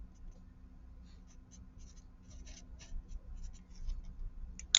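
Someone writes out an equation by hand in short, faint, scratchy strokes with brief pauses, over a steady low background hum.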